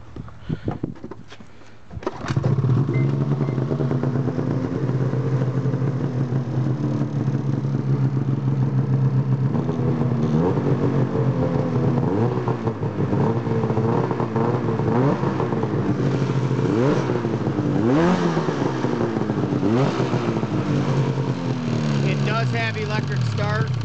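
The engine of a 2003 Ski-Doo REV MXZ800 X Edition snowmobile starts after a brief crank, then idles loudly and steadily with repeated rising and falling revs, close to the listener.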